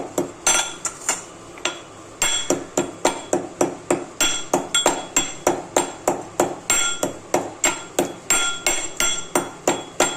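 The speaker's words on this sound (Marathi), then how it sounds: "आता थोडी कुटून घ्यायची वेलची" Cardamom pods pounded in a mortar for a carrot halwa, a steady run of sharp, loud hard-struck blows repeating in even rhythm, close by and with no talking.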